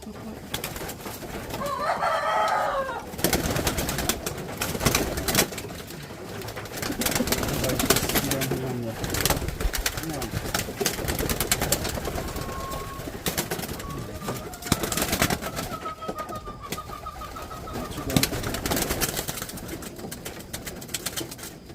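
Racing pigeons coo and flutter at close range amid rustling and wind noise during trap training, with a person talking intermittently over the birds.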